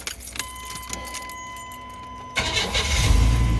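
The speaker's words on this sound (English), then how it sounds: "Let's fire it up." Keys jingle briefly before a Chevy Astro Van's engine cranks and catches, rising into a steady, close idle for the last second or so.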